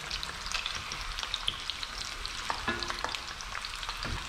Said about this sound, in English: Just frying two fish.